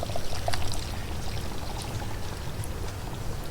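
Dirty water is poured into a homemade charcoal filter in a steady splashing, gurgling stream that runs the whole time, close and moderately loud, with no talking.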